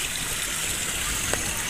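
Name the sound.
water gushing from a village water spout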